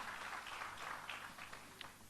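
Church congregation applauding at a Sunday worship service, a soft, distant wash of many hands clapping at low level with a few sharper claps near the end, no talk over it.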